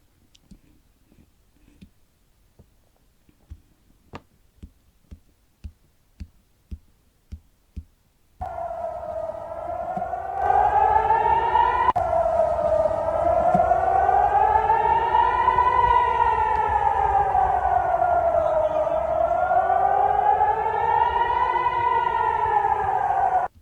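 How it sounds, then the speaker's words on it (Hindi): A few sharp ticking clicks give way to a loud air raid siren, wailing up and down in slow, steady cycles, with no one speaking. "यहाँ पर ख़तरे के सायरन सुने गए हैं"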